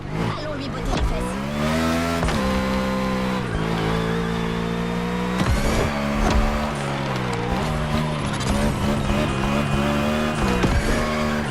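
Engine of a NASCAR stock car in a racing video game drones loudly and steadily throughout, its pitch shifting as the car slides and drifts, with brief bursts of tire noise and a voice talking over it.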